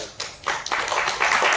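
Scattered hand claps from an audience at a Hindi-language direct selling business talk, starting thin and building into sparse, uneven applause over a moment, fairly close.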